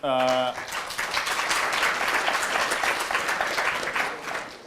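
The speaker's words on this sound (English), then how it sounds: "we'll get through more if we don't applaud the question" An audience at a public question-and-answer event with a politician breaks into steady, full applause right after a question. A speaking voice is heard briefly at the start, then the crowd clapping continues evenly throughout.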